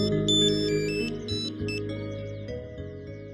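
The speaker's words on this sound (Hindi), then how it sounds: "मिस्टर अग्रवाल को ही फोन ट्राई करता हूं" A phone rings during an outgoing call, a close electronic ringtone with a rapid repeating melodic pattern that lasts the whole short clip, with no talking.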